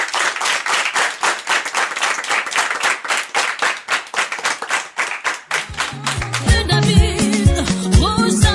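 A church congregation clapping in a steady, rhythmic beat for several seconds, loud and close, then giving way to music toward the end.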